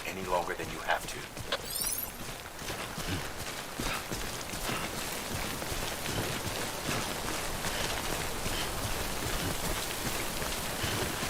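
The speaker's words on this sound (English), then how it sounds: "Don't stay out in the rain any longer than you have to." Steady, dense rain hisses across the whole stretch in the video game Death Stranding, a continuous even downpour with no gaps.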